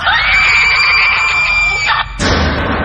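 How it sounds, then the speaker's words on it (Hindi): A woman and a man let out a single mingled, sustained scream of horror, loud and shrill, cut off by a sudden burst-like sound effect near the end of a dramatized scary story. "उस औरत और अपनी आवाज की मिली जुली चीख"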